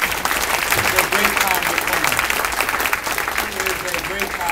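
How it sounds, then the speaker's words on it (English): An event audience applauds a congresswoman with a sustained, fairly loud patter of many hands, steady and unbroken across the whole stretch. "Give her a round of applause."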